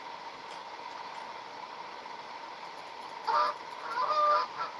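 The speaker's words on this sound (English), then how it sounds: "Oh, it is a mallard." Mallard duck calling outdoors on a hunt, with several raspy quacks rising over steady background hiss in the last second and a half; a short spoken exclamation comes just before the calls.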